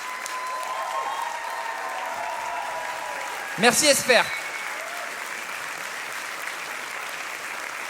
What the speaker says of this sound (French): Notre ami Esper, s'il vous plaît, on garde les applaudissements.